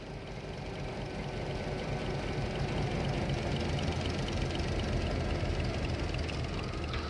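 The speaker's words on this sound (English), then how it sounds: "The engine noises tend to drown out my voice, so I'll shut up for a second" Diesel locomotive engines idling and rumbling in the Trainz railroad simulator, a consist of a GP50, two GP10s, an SD35 and two gensets on the Eagle River Railroad route, giving a steady, dense low drone throughout with no voice.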